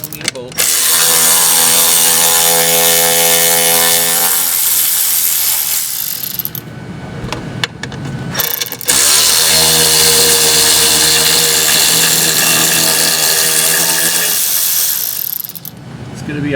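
A powered ratchet spins out two 10mm bolts from the battery mount on a Prowler, two long, loud, buzzing motor runs with a strong droning tone and a brief gap between them.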